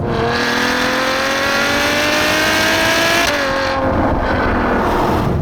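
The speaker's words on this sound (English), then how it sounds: "This is the genuine Ferrari V12 experience." Ferrari FF with a V12 engine accelerating hard on a straight road, a loud, close engine note climbing steadily in pitch through the gear, then a brief dip at a shift before pulling again.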